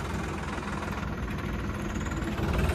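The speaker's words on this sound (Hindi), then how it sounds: "दो ट्रैक्टर वो आ रहे भाई" Steady, close diesel drone of a tractor engine running, a New Holland and a Powertrac 855 nearby, a dense low rumble holding even with a slight rise at the end.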